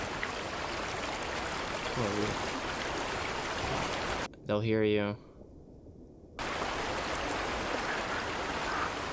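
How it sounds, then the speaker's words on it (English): A loud river from the film A Quiet Place rushes with a steady, broadband roar that fills the scene and cuts out briefly while a voice speaks. "Wouldn't they all be attracted to the sound this river's making right now?"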